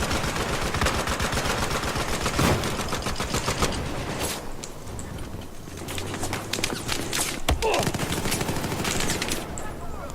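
Rapid bursts of automatic gunfire and single shots in Battlefield 4, dense and loud throughout with brief lulls, the shooting continuous and layered as in a busy multiplayer battle.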